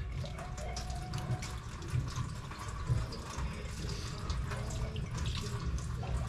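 A faint trickle of tap water runs steadily into a sink, soft and close, with light splashing and no talking.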